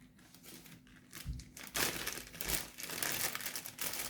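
Plastic freezer bags crinkle and rustle up close as they are handled for packing fennel, a steady soft crumpling with a few louder crunches, no voices.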